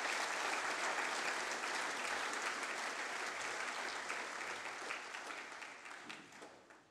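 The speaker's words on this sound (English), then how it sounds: "Could we all applaud the students who've received awards for academic achievement?" A school audience applauds students receiving academic awards, steady dense clapping that fills the room and slowly thins out toward the end, heard alone without any voices.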